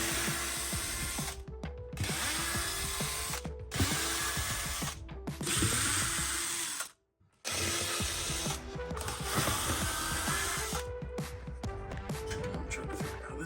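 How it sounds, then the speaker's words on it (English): Screws are backed out of a kitchen fluorescent light fixture with a ratcheting driver, giving repeated mechanical clicking and whirring in bursts with short pauses between, close and fairly steady. "I got some screws to take out, and then this will be gone."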